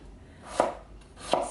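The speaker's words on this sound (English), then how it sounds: "So you chop it up in about 1-inch cubes" Celery root being chopped into cubes, two crisp knife strikes on a cutting board about three quarters of a second apart, close and clear.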